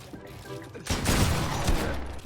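Video game gunfire bursts out loud and dense from about one second in, rattling rapid shots that carry on to the end, with a muffled stretch of game sound before.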